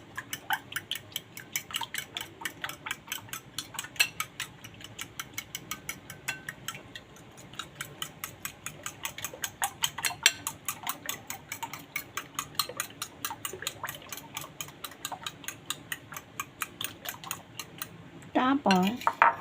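Three eggs are beaten in a bowl for an eggplant omelette, with rapid, rhythmic utensil clinks and scrapes repeating steadily and close by. Brief faint voice near the end.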